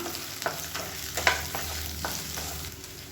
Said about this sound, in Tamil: இது எல்லாமே நல்லா வதங்கணும்